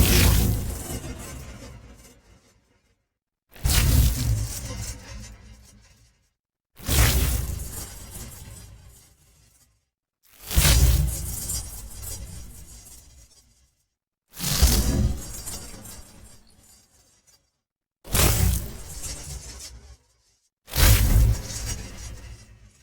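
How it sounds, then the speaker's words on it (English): Seven separate bursts of a swelling, crackling whoosh, a spaceship flying through a portal, each hitting loud and then fading out into silence before the next one. "I had to come up with some portal sounds for a ship flying through a portal"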